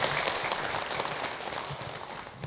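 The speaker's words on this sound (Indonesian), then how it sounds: "Tepuk tangan untuk kita semua." A gathered audience at a religious talk applauds, a dense, steady wash of clapping that stays fairly faint and distant throughout.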